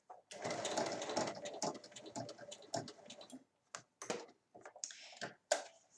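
A sewing machine stitches along the sides of a fabric chequebook cover, running in a close burst, then giving way to short ticking clicks and brief bursts of stitching with pauses between.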